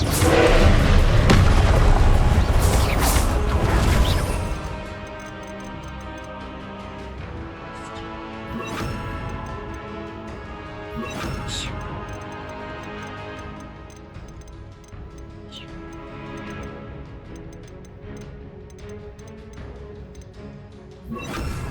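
Flipendo and Arresto Momentum spells are cast in the Hogwarts Legacy video game: a loud booming burst at the start, then sharp whooshing impacts at intervals over a sustained tonal musical bed.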